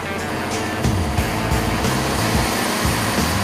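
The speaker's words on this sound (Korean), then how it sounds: "일이 끝날 때까지 단 1시간도 꺼지지 않는 엔진의 소음은 엄청나다." A fishing boat's engine drones loud and constant with a heavy rumble and steady mechanical hum, close by and unbroken throughout, running all night to power lights on a hairtail fishing trip.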